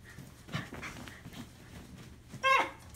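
Dogs playing together during a first play session, soft breathy panting and snuffling through the clip, ending in a brief louder whimpering yelp near the end.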